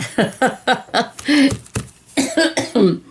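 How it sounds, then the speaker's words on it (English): A burst of repeated coughing, a rapid series of harsh, throaty hacks close to the listener, pausing briefly before a few more coughs. "I still kind of have that lingering cough occasionally"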